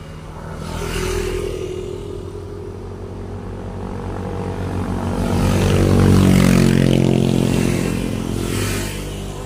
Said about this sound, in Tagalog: Mga motor ang dumadaan mga kapain.